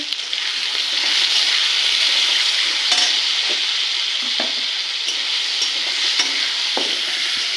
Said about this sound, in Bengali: তো এবার আমি পাঁচ মিনিট আলোটা ভেজে নেব